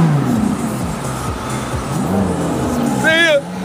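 Ferrari accelerating at full throttle on a downtown Los Angeles street, a loud roaring engine rising in pitch with quick gear shifts, nearby, with people's voices over and under it.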